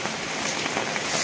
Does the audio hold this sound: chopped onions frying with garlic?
no